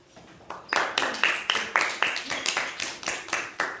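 Audience applause after a primary school theatre play, a small group clapping in a fairly steady rhythm, rising after a quiet start and holding at moderate volume.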